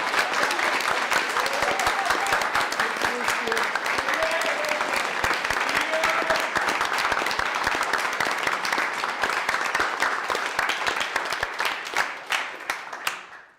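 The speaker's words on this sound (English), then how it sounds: "So please give a warm applause for the organizers." Warm applause for the organizers of a tech meetup in Vienna: a dense, steady roar of many hands clapping close by for over ten seconds, thinning and fading at the very end.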